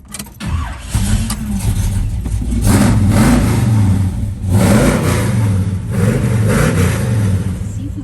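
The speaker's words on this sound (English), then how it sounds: "Grab the keys and we'll fire this thing up." A 1970 Chevrolet Chevelle cranks briefly, catches and roars to life, then gives a few loud revs before settling into a deep, rumbling idle close by.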